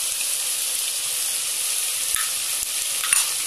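Chicken fries with masala in a pan for biryani, giving a steady, loud hiss and sizzle with a few faint stirring scrapes, close up, with no talking.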